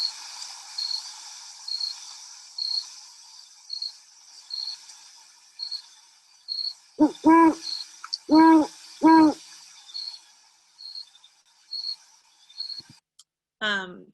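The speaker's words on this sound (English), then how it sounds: "That is the Great Horned Owl." Great Horned Owl hooting in New Mexico, a few deep, resonant hoots in a short rhythmic burst over a steady background of high insect chirps, with a brief faint click near the end.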